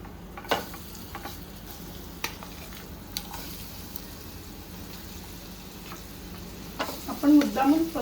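Dal with turmeric fries gently on a slow flame in a wide, shallow pan, giving a quiet sizzle broken by occasional spoon clicks and scrapes, with stirring louder near the end.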